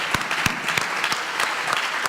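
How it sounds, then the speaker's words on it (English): Steady applause from an audience at a Pennsylvania Senate debate, dense clapping with a few sharper claps standing out, continuous throughout with no talking. "how about a round of applause for our two candidates that are here this evening?"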